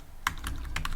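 Keystrokes on a computer keyboard, a handful of light, crisp clicks in two small clusters, close and fairly quiet over faint room noise.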